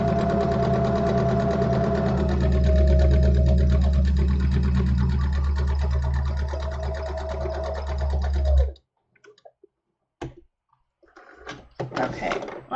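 A sewing machine stitches a vertical seam on a summer tunic, buzzing steadily and close for about eight seconds before stopping abruptly, followed by a few scattered clicks and handling sounds.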